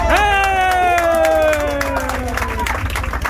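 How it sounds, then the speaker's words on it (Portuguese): A live audience at an event in Lisbon cheers and applauds, with a loud rising whoop gliding down over dense clapping and crowd noise that stays steady through the short burst. "Big Round of Applause to Carlos!"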